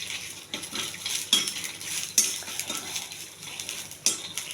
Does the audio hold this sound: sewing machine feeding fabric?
no